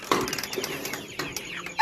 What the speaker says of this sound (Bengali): ব্রাহ্মা মুরগিগুলো আলাদা করলাম আজ।